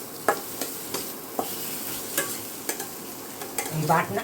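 A curry leaf paste mixture being lightly stirred, with soft scraping strokes and small clinks recurring every half second or so, close and fairly quiet with no voices.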